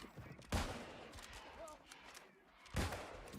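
Gunfire in the game New World, two loud, close shots about two seconds apart, each a sharp burst with a short tail, under faint background ambience.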